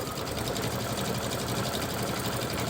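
A sewing machine with a circular stitching attachment runs steadily at close range, a dense continuous mechanical whir and rapid needle clatter without pause or speech.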